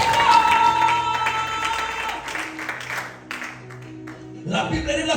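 A church congregation applauds and cheers for Jesus, a dense wash of clapping that swells loudly at first, thins in the middle and picks back up at the end.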